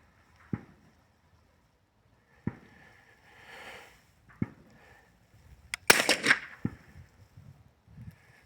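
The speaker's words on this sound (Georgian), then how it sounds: "კარგად დაუმიზნე, სუნთქვა დაიჭირე და გააკეთე გასროლა." A Hatsan Escort .22 LR rifle fires at a shooting range: several sharp, short cracks ring out spaced seconds apart, with one louder, denser burst near the end, and no talking.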